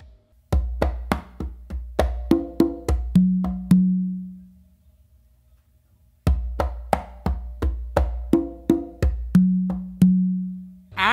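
Hand-played pachanga groove on congas and tumba: quick runs of sharp strokes leading into booming open tones, played twice with a short pause between phrases. Close, loud and unaccompanied.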